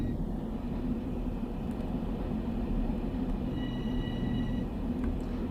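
A Metro-North train on the Harlem line, simulated in Train Sim World 2, rolls out of Grand Central with a steady deep rumble and drone, faint tonal whines rising briefly over the constant low roar, no voices.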